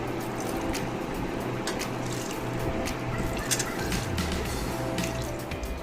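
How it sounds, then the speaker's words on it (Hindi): Warm water is poured gently into mutton in a pressure cooker, giving a steady liquid trickle and dribble over a low background hum, close and continuous. "थोड़ी हल्की गर्म पानी डालेंगे"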